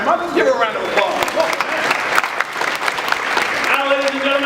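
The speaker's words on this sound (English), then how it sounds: "Let's give her a round of applause." An audience applauds after someone is named honorary Duck Master, the clapping steady and fairly loud across the clip, with a voice heard over it near the start and again at the end.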